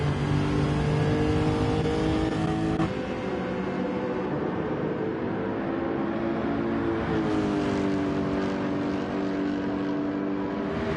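Lexus RC F race car engine in a racing video game, revving loudly and steadily with rising and falling pitch, a shift near three seconds and another climb later, with no talk.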